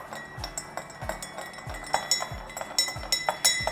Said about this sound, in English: Now give this a little stir up.